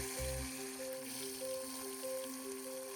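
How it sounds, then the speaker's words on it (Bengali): River fish fry in a pan at a riverside campsite, giving a quiet, continuous sizzling hiss with some steady tonal sound running alongside it. "এখন এই যে মাছগুলো ধরেছিলাম এগুলো মাছগুলো ভাজবো।"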